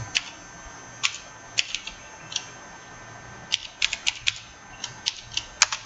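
Sparse, irregular keystrokes on a computer keyboard, some single taps and some quick clusters, close and fairly quiet with no voices.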